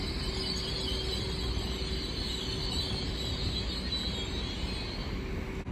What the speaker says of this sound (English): Now arriving is the 11:54 Great Western Railway service from Great Malvern to London Paddington, being worked by an IET